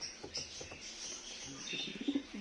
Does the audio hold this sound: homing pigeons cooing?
yes